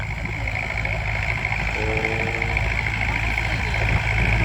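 A tractor engine runs in a field during a sweet potato and jicama harvest, a loud, steady mid-range hum with a constant rumble that holds its level throughout.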